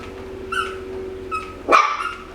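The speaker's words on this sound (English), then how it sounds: "when the dog bites it like that, it squeaks" Two short squeaks from a rubber bass-shaped dog toy, the second louder and longer, over a steady low hum in the background.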